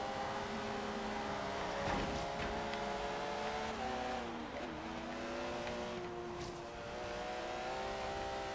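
Porsche engine accelerating in the racing game Forza Horizon 3, a steady droning engine tone rising and falling in pitch without breaks, loud and close throughout.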